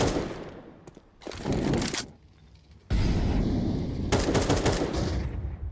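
Counter-Strike 2 gunfire in a professional esports match rattles in loud bursts of rapid automatic shots, with short pauses between volleys and no talking.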